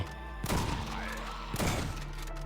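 Two sharp sniper rifle shots ring out in a Minecraft zombie mod game, about a second apart, each a punchy crack with a short tail, over a low background hum.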